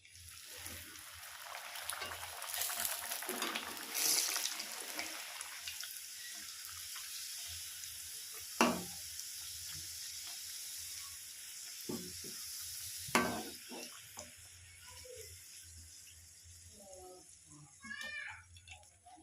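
Pea-stuffed kachori deep-frying in a wok of oil, a faint continuous bubbling sizzle with a few sharper clatters of the turning spoon, quiet and without speech.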